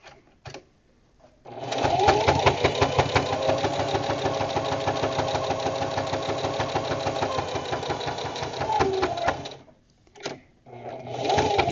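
A sewing machine stitches a fabric coaster in a steady rapid whir for several seconds, stopping and restarting at the ends, with soft talk in the pauses.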